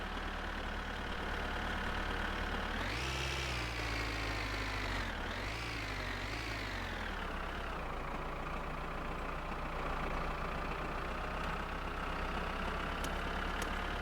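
A steady engine idle rumbles throughout, with a brief rev and pitch sweep early on before settling back to a constant low drone.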